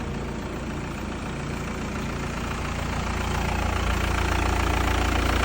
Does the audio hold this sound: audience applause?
no